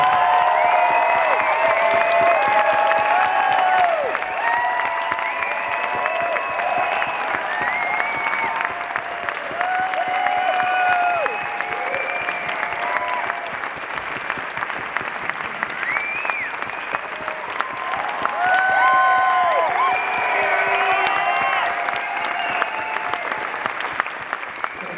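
A concert crowd in San Francisco applauds and cheers for a performer, with loud sustained clapping and repeated high whistles rising over it throughout.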